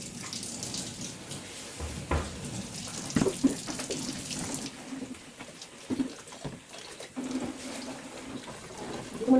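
Water runs from a tap into a basin in a home, splashing and gurgling unevenly for the whole stretch, with a few brief clatters and faint background sounds.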